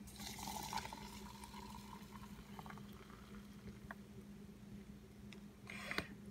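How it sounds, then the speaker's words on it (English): Water pours into a Zyliss coffee mug over ground coffee, a faint, steady bubbling and trickling fill with a few small clinks, quiet and close, without voices. "number two, pour in your water"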